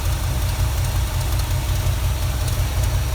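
A GMC truck engine fitted with a Holley 700 carburetor runs steadily with an exhaust leak, giving a loud, continuous low rumble with a rough ticking texture up close.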